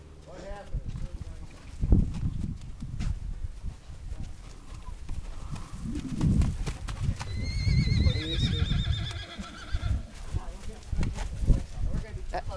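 A horse being worked under saddle gives out a loud whinny midway, with hoof clip-clop and movement noise throughout, while a rider talks over it near the microphone.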